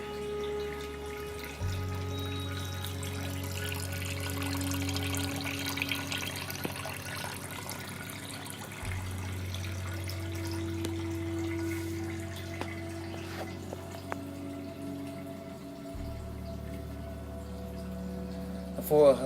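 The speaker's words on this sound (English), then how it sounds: "and then add more water until we fill up the pot" Water runs steadily into a brewing pot for an all-grain homebrew, a quiet continuous pour with a low hum beneath it for the whole stretch.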